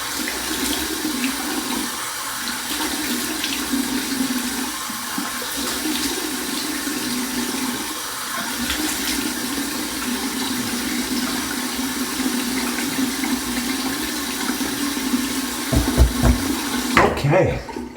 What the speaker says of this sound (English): Here's my cold water rinse.